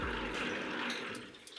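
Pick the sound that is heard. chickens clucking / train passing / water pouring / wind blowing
water pouring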